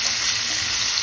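Onions fry in a hot pan with a loud, dense, continuous sizzle that fills a brief close-up moment, with no voices.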